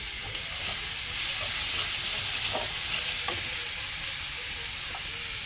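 Paneer, potato and soybean stir-fry in a pan with a continuous loud sizzle and occasional scraping stirs, close up with no talking.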